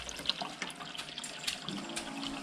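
Water runs from a tap into an empty cup, a steady close splashing and trickling stream that rises slightly in pitch toward the end, with no talking.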